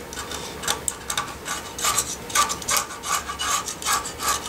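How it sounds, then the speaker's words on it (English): A blade scrapes old foam off the metal frame of a JBL car speaker from a Toyota Tundra or Sequoia, giving repeated rough rasping strokes in an uneven rhythm, close and fairly loud. "You can hear the blade kind of scraping right against the metal there on the frame."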